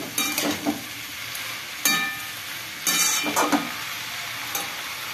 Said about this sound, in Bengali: পেঁয়াজটা আর একটু ভালো করে লাল লাল ভাজা হবে